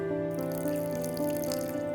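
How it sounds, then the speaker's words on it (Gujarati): Water trickles and drips steadily into sugar in a pan to make syrup for satha puri, a close, continuous pour with no talk. "સાકરમાં પાણી એટલું જ નાખવું જેટલી સાકર ડૂબે"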